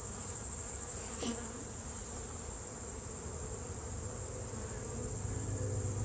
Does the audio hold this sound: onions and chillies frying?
no